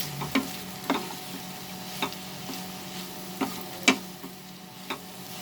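A spoon scrapes and taps around a pan of aloo methi while roasted cumin powder is mixed in. Soft, regular strokes land about once a second over a faint, low sizzle.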